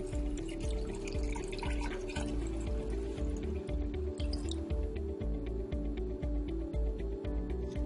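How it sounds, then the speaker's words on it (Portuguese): Water runs into a pot over bay-leaf-seasoned beans, a steady splashing and trickling pour with dripping spatters throughout. "agora eu vou só cobrir de água."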